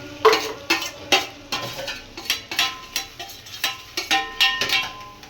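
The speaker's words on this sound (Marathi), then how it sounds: "आता आपण हा जो मच्छी आहे आपण याच्यामध्ये टाकूया, परतून घेऊया" Fish being stir-fried in a kadhai, with a rapid, regular series of metal spatula scrapes and clinks against the pan over a soft sizzle, close and fairly loud.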